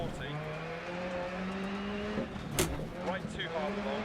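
Polo WRC rally car driven hard on Swedish snow in DiRT Rally: a loud engine drone that climbs and falls through gears, with a burst of skid noise as the handbrake swings the back end round, heard under someone talking.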